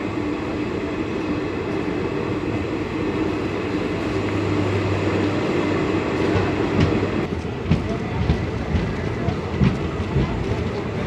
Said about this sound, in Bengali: আমাদের ট্রেন 2 মিনিট হল্টের পর ছেড়ে দিল কাটোয়া জংশন